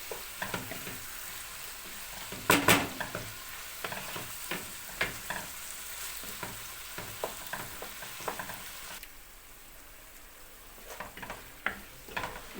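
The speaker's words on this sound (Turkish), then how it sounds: "Bunu güzelce kavurayım." Zucchini cubes sizzling steadily in a hot pan, with occasional scraping and clicking as they are stirred; no talking.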